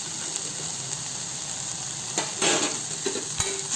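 Cooked lentils are stirred into a pan fry with a soft, continuous sizzle, and a few scraping stirs and light clinks of a utensil against the pan rise near the end.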